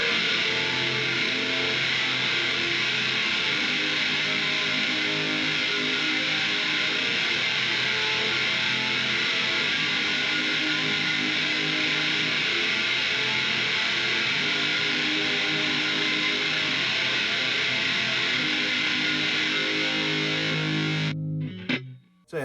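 A thick, heavily distorted electric guitar through an HM2-style "Swedish chainsaw" distortion on a Line 6 Helix Stadium XL plays a sustained, buzzing wall of tone for about twenty seconds, then cuts off abruptly.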